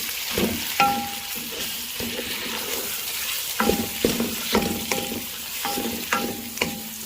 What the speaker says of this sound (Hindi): मटन को और इसको अच्छी तरह 5 से 6 मिनट तक भूनेंगे